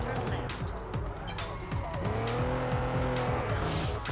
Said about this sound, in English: Okay, we spun out.